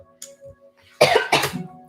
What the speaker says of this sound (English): Oh no, a cough.